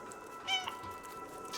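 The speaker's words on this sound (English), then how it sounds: "Press B to meow." A single short cat meow from the video game Stray sounds over a soft, steady game ambience.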